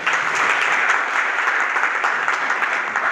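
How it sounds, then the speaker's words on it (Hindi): Audience applause at a cow-protection awareness event at Jiwaji University in Gwalior, a dense, steady wash of many hands clapping, loud and continuous with no talk over it. "एक बार तालियों के माध्यम से बता देंगे"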